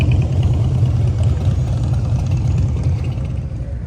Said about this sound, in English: There's a lot of motorcycles pulling in here